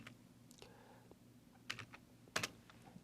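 A few scattered computer keyboard key presses at a desk, including a Ctrl+F shortcut, sound as faint clicks with a couple of sharper taps near the end over a low background hum.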